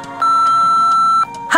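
An answering machine in a Nancy Drew video game gives one sustained electronic beep, loud and close, that lasts about a second. A short burst of sound follows it.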